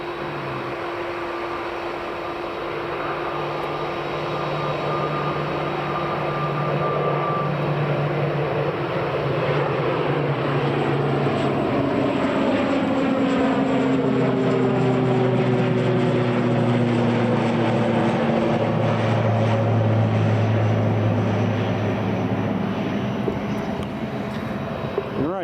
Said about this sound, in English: There goes the ATR.